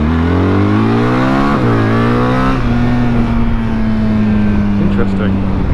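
A BMW R 1300 GS Adventure motorcycle accelerates, its engine note rising through the gears with a drop at a shift, loud and close above wind rush.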